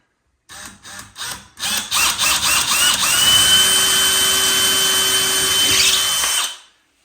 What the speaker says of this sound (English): I'm going to drill a little pre-drill there to make sure I don't split the wood right there at the end.